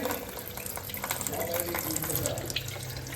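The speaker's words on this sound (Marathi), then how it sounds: "पाणी आलेलं आहे तर मी पटापट पाणी हांडे भरून घेते" Water gushes from a tap into a metal water pot, a loud, continuous rushing close by with no pauses.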